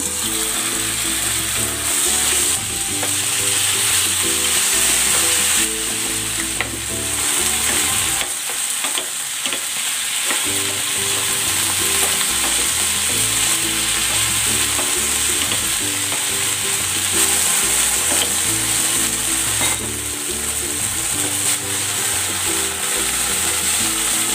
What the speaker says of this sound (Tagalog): Ipan-fry ko muna itong chicken.